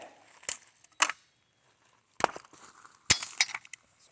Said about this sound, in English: Chunk of glass bottle, old jug.